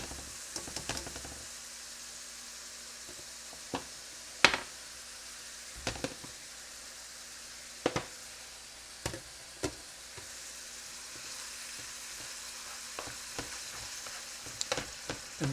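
Ground beef for Hamburger Helper fries in a pan, a quiet steady sizzle punctuated by sporadic sharp clicks and scrapes as the meat is broken up.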